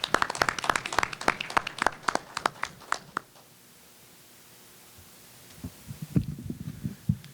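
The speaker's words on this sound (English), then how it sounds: "Everyone, please give her a round of applause." Town meeting audience applauding: a burst of fairly close hand claps for about three seconds, then quiet room tone, followed by a few scattered claps and low murmurs.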